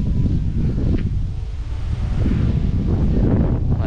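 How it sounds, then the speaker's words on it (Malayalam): Strong outdoor wind buffets the microphone on an open hilltop at Kaalanpaara with distant hills in view, a steady loud roar and rumble lasting throughout with no voices. "നല്ല കാറ്റുണ്ട്, നല്ല കാറ്റുണ്ട്."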